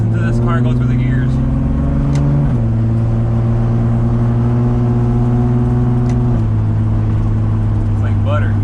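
A Toyota Supra with a full exhaust pulls hard and shifts through the gears, its loud, close engine note rising and dropping at each change in a continuous roaring run.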